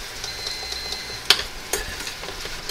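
Jerusalem artichokes and ginger cooking in a pan, a soft steady sizzle with occasional stirring scrapes and one sharp utensil clink near the middle, close and fairly quiet with no talking.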